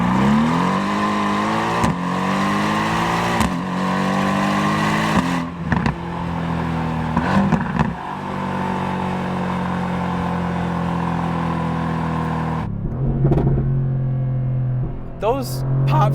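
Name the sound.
Mercedes-AMG GT R accelerating in Race mode, exhaust pops and bangs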